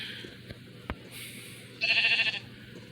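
A Minecraft sheep gives a short, nasal bleat in the game, with faint background noise and a couple of small clicks before it.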